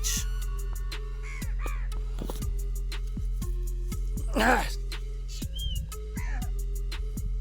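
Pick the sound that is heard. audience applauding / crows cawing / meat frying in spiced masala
crows cawing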